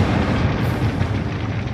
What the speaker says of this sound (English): The finely milled powder clumps together, burning less evenly, and sometimes exploding more powerfully.